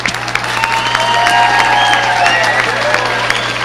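Applause and cheering from the audience at the 2018 AJB awards ceremony, a sustained crowd clapping with whoops and shouted voices layered over it, steady and fairly loud throughout.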